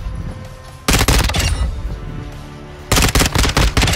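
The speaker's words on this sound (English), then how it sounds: "We're running on a suppressed SMG, so we're okay." Bursts of suppressed submachine-gun fire in a first-person shooter video game, loud and close, with rapid strings of shots in two main volleys separated by a quieter stretch.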